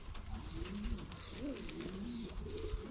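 Young racing pigeons coo in soft, rolling low calls from a settled flock in their loft, with repeated throaty phrases close by over faint background noise.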